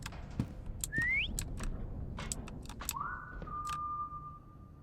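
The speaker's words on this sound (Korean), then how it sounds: "내가 Q를 누르면 휘파람을 불 수 있어" Short whistled notes in a game set on a ship, one rising quickly and another held steady, with clicks and soft background noise between them.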